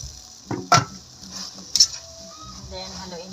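Kangkong and upo with sardines get stirred in a pan, a few distinct scraping and clinking strokes of a utensil against the pan over a low sizzle, close by, with no talking.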